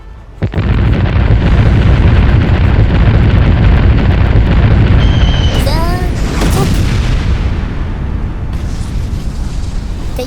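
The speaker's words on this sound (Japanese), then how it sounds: "全主砲敵戦艦にありったけの砲弾を叩きつけろ" A 3DCG battleship fires its main guns, a huge continuous roar of booms and blasts that holds loud for the whole stretch, with whistling shells and a voice shouting over it.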